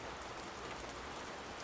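Steady rain falls on a hard surface, an even, continuous patter with no voices.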